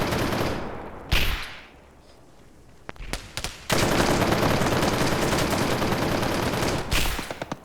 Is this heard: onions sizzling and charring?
no